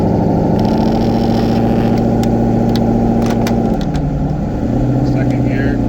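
A car with a modified exhaust and a Holley Terminator X engine setup drives in second gear, giving a loud, steady droning exhaust hum that shifts in tone partway through.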